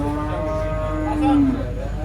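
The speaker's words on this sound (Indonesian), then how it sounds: "kalau di kontes sapi PSI ada banyak pesaing ya, seperti Bejo, Untung" A giant contest cow on a weighing scale at a cattle show gives a single drawn-out low moo, near and clear over steady background rumble.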